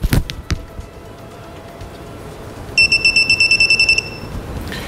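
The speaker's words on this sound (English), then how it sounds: "You can see my torque wrench starts to beep right now" A torque wrench gives a quick series of high electronic beeps, about a dozen in a steady rhythm, after a couple of sharp clicks against a quiet background.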